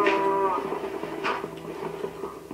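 A Minecraft cow lows in a long, drawn-out moo, followed by quieter rustling and a second faint call, fairly close and steady in level.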